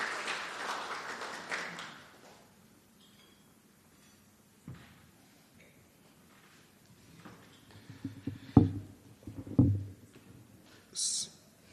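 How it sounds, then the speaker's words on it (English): A short burst of crowd applause at an awards ceremony starts and quickly fades, followed by near silence and a few scattered knocks and thumps. "Let's give them a round of applause."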